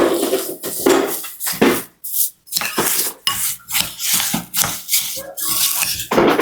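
Kadaif is mixed with chocolate filling in a bowl by hand, with repeated scraping and clinking strokes of a utensil against the bowl coming in quick, uneven bursts separated by brief pauses.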